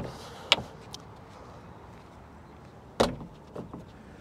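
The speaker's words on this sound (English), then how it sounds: "Tailgate, once you close it up, it's just manual shut." The manually closed tailgate of a 2022 Rivian R1T pickup gives two sharp thuds a few seconds apart, the second firmer with a short rattle after it, over quiet outdoor background.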